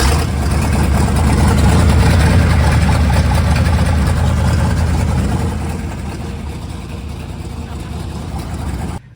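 1959 Ford F100 4x4 engine with a two-barrel carburetor, fired up and running with a loud, rough, low rumble that eases down to a steadier idle partway through before cutting off at the end.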